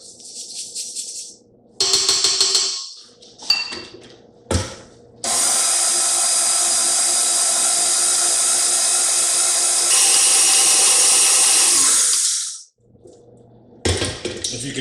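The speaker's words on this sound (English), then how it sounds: "Scrape down the sides, make sure we get all the flour" A spatula scrapes chocolate chip cookie batter down the sides of a mixing bowl, heard as a long, loud, steady scraping rasp with a few shorter scrapes before and after.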